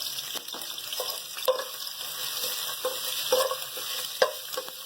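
Cumin seeds, ginger and garlic fry in oil in a kadhai with curry leaves, giving a steady soft sizzle broken by the clinks and scrapes of a spoon stirring, close and without talk.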